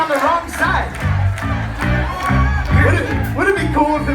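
A live concert crowd cheers and whoops for the band in Dublin, loud and close, mixed with shouting voices over a thumping low rumble.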